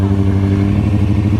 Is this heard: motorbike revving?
yes